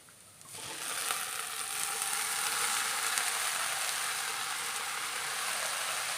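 Sizzling rises sharply as tapioca is tipped into a hot pan with crushed coconut, then holds a steady loud crackle and hiss with light scraping throughout, no voices.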